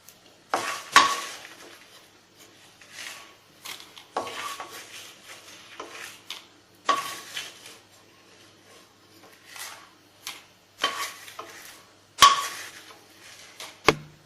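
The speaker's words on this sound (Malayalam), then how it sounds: "ഇതും നമുക്ക് നമ്മൾ നേരത്തെ ചെമ്മീൻ എടുത്തിട്ടുണ്ടായിരുന്നു അല്ലെ, അതേ പാത്രത്തിലേക്ക് തന്നെ ഇട്ട് കൊടുക്കാം" Roasted chillies are tipped into a pot that already holds dried prawns: a series of dry scrapes, light clatters and pan knocks recurring through the quiet kitchen, with sharper metallic clinks near the start and end.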